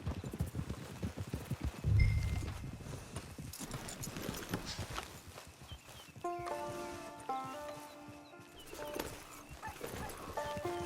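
Rhythmic clip-clop of hooves with a brief whinny near the start in Red Dead Redemption 2, over a busy game-world soundscape with a bright melodic chime pattern later.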